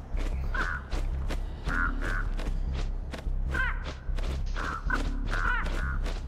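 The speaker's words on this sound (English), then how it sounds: "Crows are joining." Crows caw repeatedly in Dead by Daylight, short harsh calls recurring in clusters over about six seconds, close and clear over a low rumbling game ambience with soft thuds.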